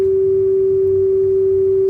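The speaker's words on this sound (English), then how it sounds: "Sorry for the test tones." A steady single-pitch calibration test tone from a cassette deck playing a Splicit Capture Series C-60 tape, holding loud and unbroken for the whole stretch over a faint low hum.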